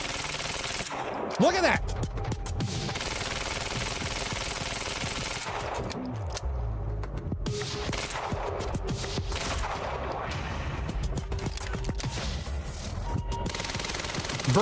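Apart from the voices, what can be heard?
advanced SMG firing in the video game Quantum Break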